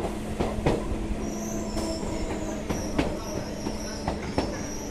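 A train at Gede station on the India-Bangladesh border gives off a steady low rumble with scattered metallic clanks and a faint high squeal, heard close by.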